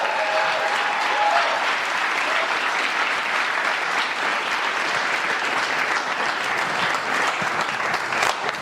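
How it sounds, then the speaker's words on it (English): An audience applauds a guest during a family-hour podcast, a steady dense roar of clapping hands that holds evenly throughout, with no talk over it. "Give him a round of applause, everybody."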